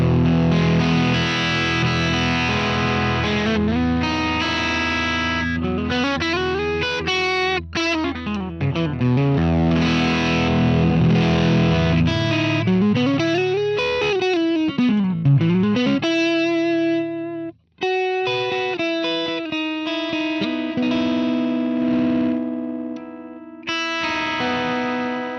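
Distorted electric guitar played on a JTV59 Variax with stock pickups through a POD Go amp and cab preset, sustained chords and bending lead lines, loud and continuous with one brief dropout near the end.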